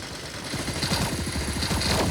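Rapid automatic gunfire from the mobile battle-royale game Sausage Man, a fast run of repeated shots layered over steady game background noise.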